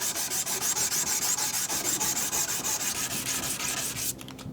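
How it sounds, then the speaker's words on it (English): Damascus Bowie knife blade hand sanded with 400 grit paper: rapid, even back-and-forth rasping strokes, close and loud, that stop abruptly near the end, with no talk. "the first thing I'm going to be doing is hand sanding the blade"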